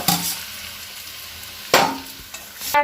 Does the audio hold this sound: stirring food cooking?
yes